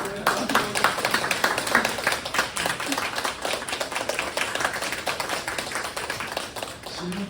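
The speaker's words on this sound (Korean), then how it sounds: "귀한 답변 주신 교수님께 저희 한번 감사의 박수를 보내드리겠습니다." Audience applause in a lecture hall at a theology conference Q&A, thanking a professor for his answer; steady dense clapping fills the whole stretch at moderate level with no gaps.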